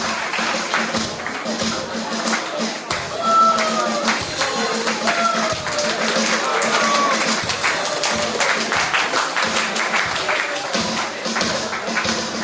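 Audience applause for a church choir about to perform, a steady mass of hand clapping with sharper individual claps standing out, running continuously and fairly loud throughout.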